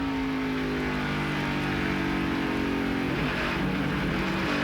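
Kenny Wallace's number 23 stock car races at Gateway in the 2004 Busch Series, its engine droning loud and steady before the pitch drops sharply in a downshift partway through.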